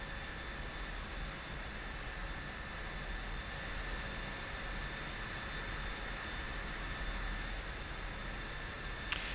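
F-16 jet engine in a flight simulator video game hums as a steady, even roar with a faint high whine, continuous and unchanging, with no talk.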